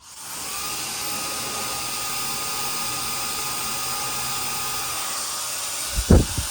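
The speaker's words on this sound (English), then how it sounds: "I'm gonna take my blow dryer and just make sure everything dries and stays." A hair dryer whirs steadily at close range with a constant high-pitched motor hum, then a few brief knocks near the end.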